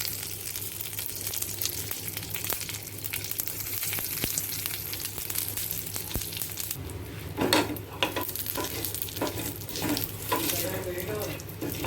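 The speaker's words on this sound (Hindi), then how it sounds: "यहाँ पे मैंने मस्टर्ड ऑयल गरम किया है 1 टीस्पून और उसके अंदर सबसे पहले डाल जाएगा सरसों, और फिर करी पत्ता" Mustard seeds and curry leaves crackling in a teaspoon of hot mustard oil, a continuous sizzle with scattered pops that turn into a burst of louder spitting crackles partway through.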